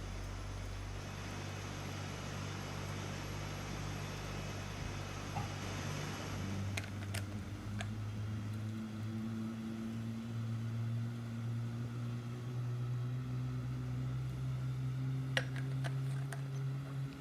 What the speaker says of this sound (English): Let's listen to those mighty GE engines